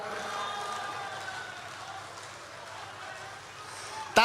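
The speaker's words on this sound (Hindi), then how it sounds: "तालियां कमजोर है, मैं कल अयोध्या जा रहा हूं।" Light, distant audience applause at a Hindi comedy poetry gathering, a soft continuous patter of clapping under crowd murmur, ending with a brief louder burst.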